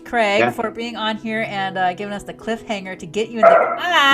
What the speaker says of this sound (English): Now that's my dog barking.